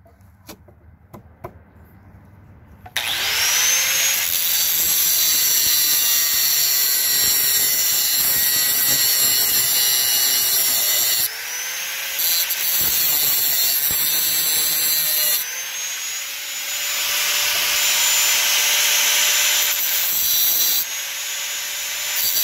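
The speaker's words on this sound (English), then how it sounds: "I'm going to cut this ring off" A power tool cuts through a metal ring on a tractor handle, starting after a few quiet seconds and running as a loud continuous high whine with brief dips and restarts.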